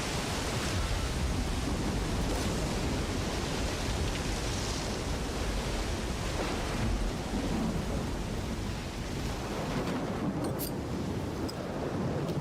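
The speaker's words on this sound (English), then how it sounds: "Don't go too far outside during a radiation storm." A radiation storm in STALKER 2 roars as a dense, continuous rumbling wash like heavy wind and thunder, loud and unbroken throughout.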